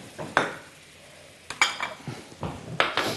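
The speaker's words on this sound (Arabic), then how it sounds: "نقلب نقلب نقلب." A spoon stirs butter and flour in a pot for béchamel, making a soft bubbling sizzle with scraping, clinking strokes against the metal that come in irregular bursts, close by.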